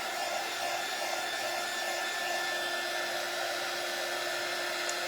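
A hair dryer blows over wet paint on a Dollar Tree cutting board, giving a steady, even whirr that runs alone with no break.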